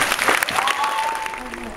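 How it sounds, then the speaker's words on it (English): Applause at a graduation ceremony for the graduates, a brief burst of clapping from the audience that fades over a couple of seconds, with voices and a tonal sound running through it. "But one more round of applause for our graduates."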